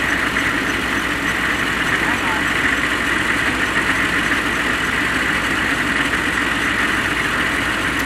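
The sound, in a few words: truck engine idling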